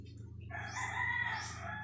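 A rooster crows once, loud and drawn out, over a low steady background hum, with chickens around it in a flock recovering from forced molting.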